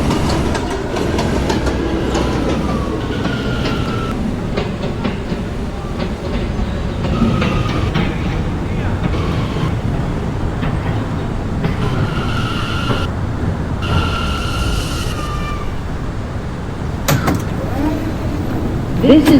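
An R179 M subway train runs on the Myrtle Avenue line, a steady loud rumble and clatter of wheels with rising motor whines and door sounds, while an automated voice speaks over it.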